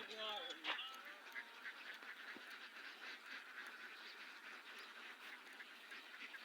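Ducks on a farm quack near the start, then a steady rustling outdoor wash with faint distant bird noise continues, all fairly quiet.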